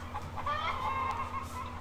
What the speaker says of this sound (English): The chickens like fresh water.